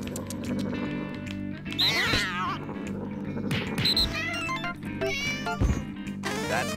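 Cat meows from the video game No More Heroes 2, several rising and falling cries over a steady game soundtrack with a low hum.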